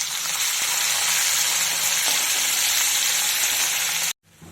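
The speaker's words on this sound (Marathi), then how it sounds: "मिरची आपली छान परतून झालेली आहे" Green chilli paste sizzles and fries steadily in hot oil in a kadhai over medium heat, a loud continuous crackle with no talking, cutting off abruptly near the end.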